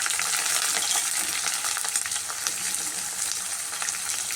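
Green chillies and onions frying in oil, a dense, loud, continuous sizzle with faint spoon scraping as they are stirred, no voices.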